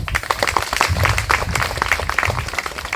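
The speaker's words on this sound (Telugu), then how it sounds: "స్టూడెంట్స్ అందరికీ కూడా ఒక్కసారి గట్టిగా క్లాప్స్" Applause for students at an event in a garden venue: a dense, loud crowd clapping that runs continuously throughout, with no speech over it.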